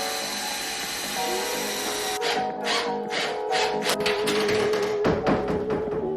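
A power drill whines and revs in short bursts as screws bite into wood, loud and close, with clattering handling noises between runs.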